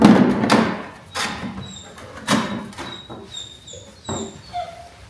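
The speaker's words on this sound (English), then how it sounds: "Shop dog's talking to us." A shop dog in a workshop whimpers and vocalizes in several short, close bursts, with squeaky whines and a few clattering knocks between them.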